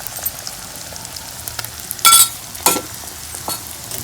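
Beaten egg sizzles steadily in a hot pan with cauliflower pieces, the frying hiss constant and close, broken by a couple of louder spatters and stirring scrapes.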